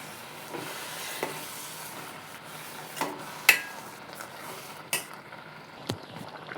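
Sugar stirred in a pan over a low gas flame while making halwa, soft continuous scraping and sizzling with a few sharper clinks of the spoon against the pan, close and alone.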